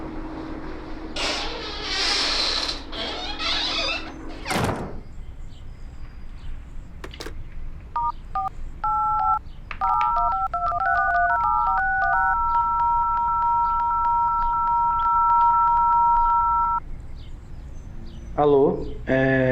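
A phone's touch-tone keypad beeps through a string of dialed digits and then holds a long steady tone, preceded by a burst of noise and a thump. A voice talks around it.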